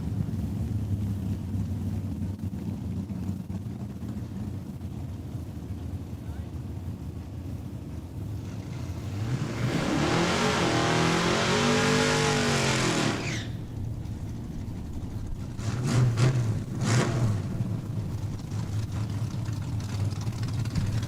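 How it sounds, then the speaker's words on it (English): A Chevrolet Beretta drag race car accelerates hard down an asphalt strip at a raceway, its engine roar swelling loud over steady wind noise, then cutting off, followed by brief engine bursts. "You can hear those tires chomping on that asphalt"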